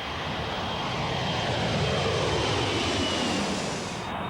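A C-17 Globemaster III military transport aircraft, built by McDonnell Douglas, roars steadily at an air show, a loud continuous engine drone with a faint high whine, no voices.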